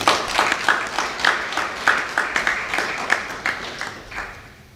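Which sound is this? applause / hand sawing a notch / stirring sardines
applause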